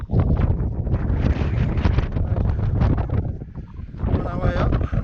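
Strong, steady wind buffets the microphone on an exposed mountain ridge of Moel Siabod, roaring loudly and continuously throughout with gusty surges.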